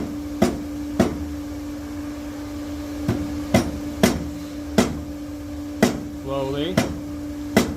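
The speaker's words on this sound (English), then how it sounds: "I just take a big old hammer, rubber one, and tap it down." A rubber mallet taps metal about nine times at an uneven pace, each knock dull and short, over a steady low hum, with a brief spoken word.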